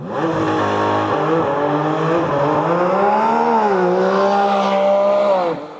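Porsche 718 Cayman GT4 RS with its naturally aspirated combustion engine pulls hard under way, a loud continuous drone whose pitch drops at a shift near one second, then climbs and falls as the revs change.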